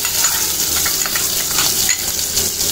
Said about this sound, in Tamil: இப்போ கட் பண்ணி வச்சுருக்கிற இந்த ஒரு வெங்காயம், பெரிய வெங்காயத்தை சேர்த்துக்கிறோம்.